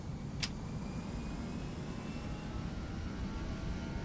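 Airbus A321 jet engines in Prepar3D v3 spool up for takeoff at Heathrow, a steady broad roar with a deep rumble that holds even, and a brief sharp tick near the start.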